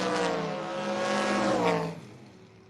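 Drag racing cars launch down the strip at a footbrake drag racing event, their engines a loud, sustained roar that swells and then drops away sharply as they pull into the distance.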